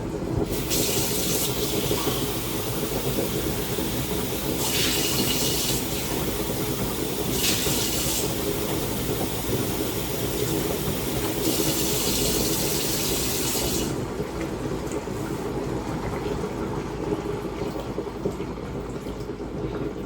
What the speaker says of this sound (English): And the 1 cup of water.